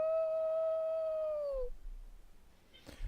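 A single long, steady howl from outside in a tabletop fantasy game, loud and sustained before cutting off, followed by quiet low rumble.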